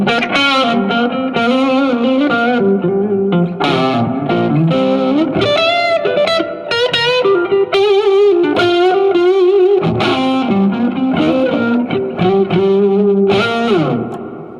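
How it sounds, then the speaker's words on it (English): Electric guitar played through a Marshall signature amp with built-in digital reverb, loud and continuous, with distorted, effects-laden tone, sustained bends and melodic runs ringing into reverb tails throughout. "You've also got built-in digital reverb as well."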